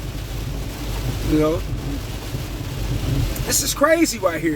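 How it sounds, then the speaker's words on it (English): Steady rain falling outdoors, a continuous wash of noise with a low rumble, heard under someone talking loudly near the end. "It's raining outside, so bear with me."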